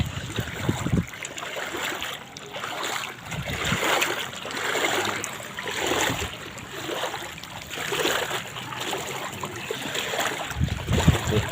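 Someone wades through deep flood water in Calumpit, Bulacan, pushing a bicycle after days of rain, with steady sloshing and splashing that swells and fades every couple of seconds, close and continuous, without talk.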